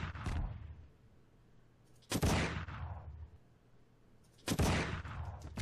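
Gunfire in Garry's Mod, three separate loud bursts of shots spaced about two seconds apart, each fading into a lingering tail, with no talk between.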